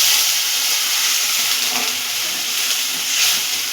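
Water poured into a frying chhena and green chilli mixture, producing a loud, steady broadband hiss of steam that continues evenly throughout, close up with no talking.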